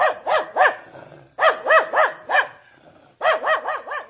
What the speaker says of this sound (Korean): 검은 개가 윙윙 짖으면서 쫓아와 하마터면 다리를 물릴 뻔했다